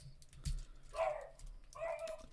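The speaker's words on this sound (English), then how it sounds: "As you can hear all the animals in the background barking." Dogs barking and whining in the background, a few faint distant barks and a whimpering yip spaced over a couple of seconds in an otherwise quiet room.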